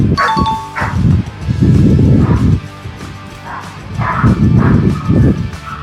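Dogs kept in a closed garage at a Calatagan resthouse bark in repeated loud bursts close by, several barks spaced through the stretch with short pauses between them.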